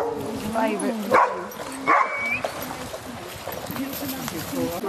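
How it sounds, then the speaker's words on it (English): A large dog that loves swimming, out with a dog-walking group near water, gives short barks and whimpers amid steady background noise and people talking. "That great, great big dog is trying to drag out."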